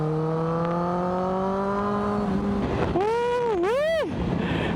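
A 1000cc superbike engine on the move holds a steady, rising tone, then revs sharply up and down in loud, close bursts.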